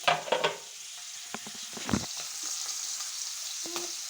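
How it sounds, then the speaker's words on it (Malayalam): Kallummakkaya mussels frying in hot oil, a soft continuous sizzle with a few louder popping crackles early on, then a quieter steady hiss, close and with no talking. "കക്ക നമ്മൾ ഒന്ന് ചൂടായ എണ്ണയ്ക്ക് ഇട്ട് കൊടുക്കാം. ഫ്രൈ ചെയ്ത് കൊടുക്കാം കേട്ടോ."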